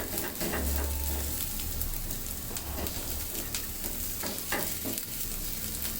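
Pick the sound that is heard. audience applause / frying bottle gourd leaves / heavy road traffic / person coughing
frying bottle gourd leaves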